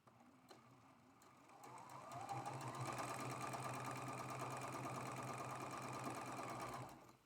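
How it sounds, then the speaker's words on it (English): A sewing machine stitches a quarter-inch seam on a Beaming Star quilt block, a close, steady mechanical hum that builds after a couple of seconds, holds evenly, then stops abruptly. "we are sewing this seam with a 1/4 inch seam"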